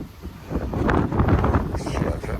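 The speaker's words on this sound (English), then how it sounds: "because it is very windy" Strong gusts buffet the microphone outdoors while filming a sunset by a parked bike, a loud continuous low rumble that swells and surges throughout.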